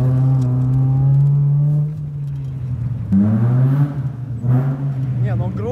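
VAZ 2113 car with a 16-valve engine revving, a loud close drone that holds steady, drops, then climbs again in pitch, with people talking over it.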